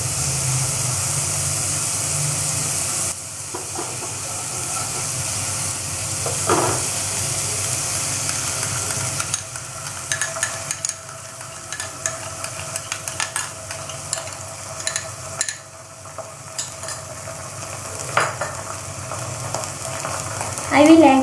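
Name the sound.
tomato sauce added to sizzling bread tikka in pan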